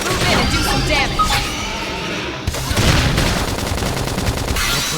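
Gunfire and explosions in the video game Xenoblade Chronicles X: dense, rapid volleys of shots layered with booms and crashing impacts, loud and busy across the whole stretch.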